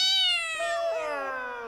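A performer in a comic Ramleela court scene vocally imitates a cat, producing a single drawn-out, wavering meow with shifting pitch, close and clear with no other talk.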